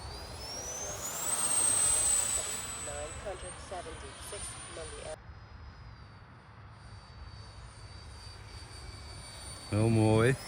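A radio-controlled F-35B STOVL jet model, a large-scale model, passes by with a rising then falling turbine whine under outdoor wind noise, while people talk nearby.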